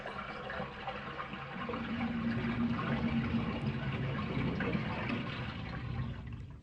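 Water gurgling and rushing as a bathtub drains in the survival horror game Resident Evil, a steady muffled swirl that swells and holds, fairly quiet and uninterrupted.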